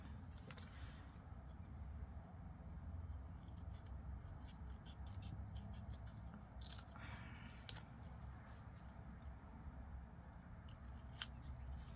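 Scissors trimming craft materials give faint, close snips and rustles in quick bursts over a low steady background hum, with no voices.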